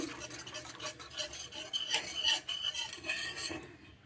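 A powdered-milk sweet mixture for langcha is stirred close up, with continuous rhythmic scraping and rubbing of a spoon against the bowl, unbroken by talk, fading out at the end.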